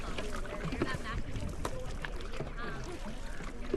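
Canoe team practice on open water, with soft paddle strokes and water splashes against the hull at a light rhythm, a coach's calls and other voices over the top.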